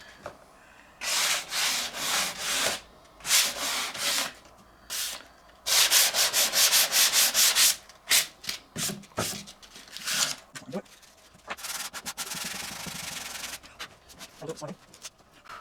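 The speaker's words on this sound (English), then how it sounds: "Now he's going to start hand sanding to start with." Hand sanding by hand with sandpaper, a series of rough rubbing strokes in bursts of varying length and rhythm, close and fairly loud, with short pauses between passes.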